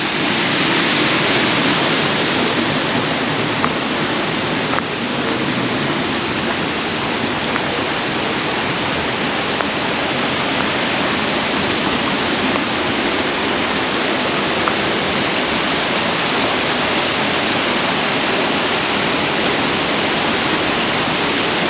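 A waterfall in the Poconos rushes in a steady, loud, dense roar that holds constant from start to finish, with no voices over it.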